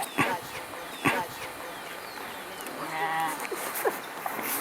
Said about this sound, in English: the villagers are taking their sheep up to higher pastures